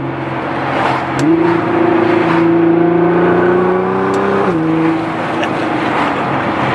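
A Nissan GT-R's exhaust, fitted with new downpipes and valves open, drones steadily as the engine pulls with a slight turbo whistle, pitch rising gradually then dropping back, loud and close with no talking.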